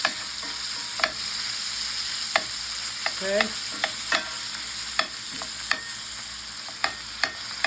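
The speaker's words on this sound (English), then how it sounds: "Start chopping your hamburger up." Ground hamburger meat sizzles steadily in a hot cast iron skillet while a utensil chops, scrapes and taps the pan at irregular intervals; a brief spoken word.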